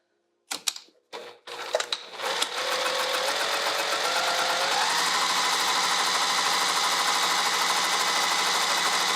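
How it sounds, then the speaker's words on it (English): A sewing machine stitching fabric for a zipper overlay starts with a few short bursts, then runs steadily at speed, a close, loud, even mechanical whirr with a rapid needle rhythm. "let's go to the machine"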